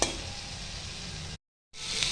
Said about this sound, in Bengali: আমি ঝিঙেগুলোকে একটু ভেজে নিচ্ছি।